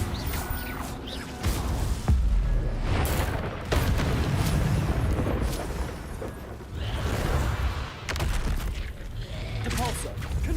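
Confringo blasting spells in Hogwarts Legacy go off in several loud booming explosions at irregular intervals, with whooshing bursts and rumbling decay between them amid ongoing game combat noise.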